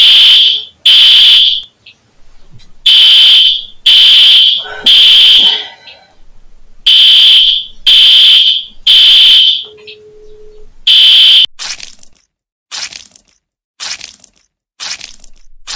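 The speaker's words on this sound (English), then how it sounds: "pulling down fire alarm very very loudest" A pulled fire alarm rings very loudly in repeated harsh bursts, each lasting about a second with short gaps between, then breaks into quicker, choppier pulses toward the end.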